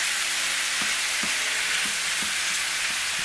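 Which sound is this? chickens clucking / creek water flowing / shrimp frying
shrimp frying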